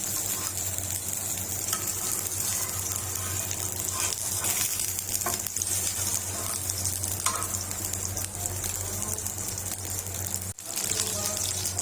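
Chicken kebab fries in a pan on a low flame, a loud, unbroken close-up sizzle that holds steady throughout, with faint scraping underneath and no speech.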